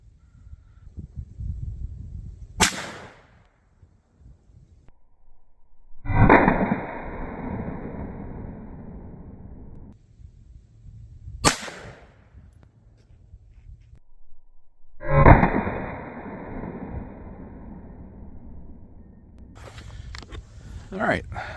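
.17 HMR and .22 WMR rifle shots fired into a ballistic gel block outdoors, heard as a few separate loud sharp cracks spaced several seconds apart, each followed by a brief rumbling tail, with quieter stretches between them.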